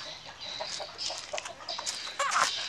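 A pet bird makes a string of short, bright, clucking chirps, fairly close and moderately quiet against light background hiss, with no talk over it.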